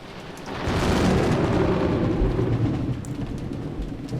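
Thunder from lightning in the video game Umineko: a sudden deep rumbling boom swells in within the first second and rolls on heavily for several seconds, loud and broad, with no speech over it.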